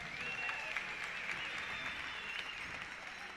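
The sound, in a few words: crowd applause at a pow wow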